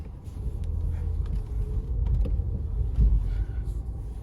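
Mini Cooper S pulling out onto the road, heard from inside the cabin as a low, steady engine and road rumble with faint creaks and mechanical knocks, no talk over it.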